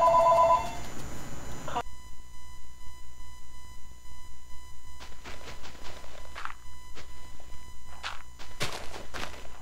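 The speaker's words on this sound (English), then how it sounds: "There's my phone going off." A telephone rings in bursts, several short electronic ring pulses at a moderate distance while computer game sounds of a Minecraft server play steadily underneath.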